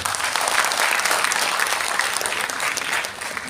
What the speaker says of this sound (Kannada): ನಿಮ್ಮ ಒಂದು ದೊಡ್ಡ ಚಪ್ಪಾಳೆ ಬೇಕಿದೆ